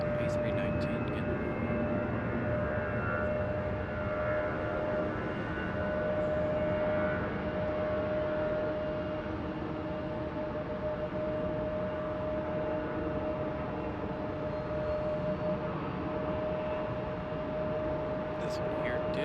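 A CRJ regional jet at Raleigh-Durham airport begins its takeoff roll, a steady broadband engine roar with a sustained whine running throughout, loud and continuous.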